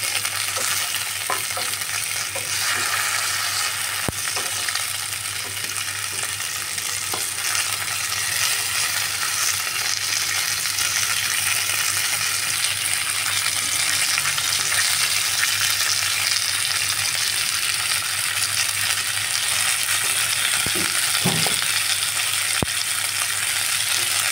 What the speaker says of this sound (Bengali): মাছগুলো আমি উল্টে দিচ্ছি। একদিক ভাজা হয়ে গেছে, আবার উল্টে অন্যদিক